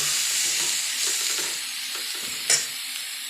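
Cluster beans with green chillies are stir-fried in a pan, giving a steady, close hiss of sizzling with a brief clatter of the spatula partway through and no speech.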